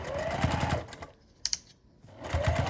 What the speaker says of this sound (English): and I'm going to sew across